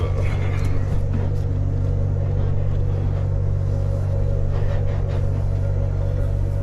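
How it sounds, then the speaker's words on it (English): A McNeilus Volterra ZSL electric garbage truck in right-hand-drive form moves along with a steady, loud low hum and rumble from inside the cab, continuous with no pauses. "It's my first time driving an electric garbage truck."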